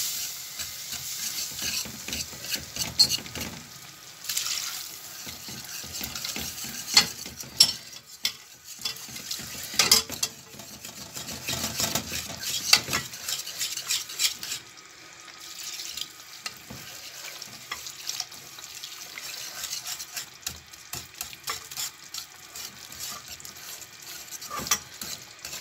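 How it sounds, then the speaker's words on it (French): A whisk works milk into a sauce for lasagna in a pot over low heat, giving a steady scraping, swishing rhythm with scattered metallic clicks. It stays close and moderately loud, with no one talking. "Et vous prenez le fouet pour ne pas que ça forme des petites boules."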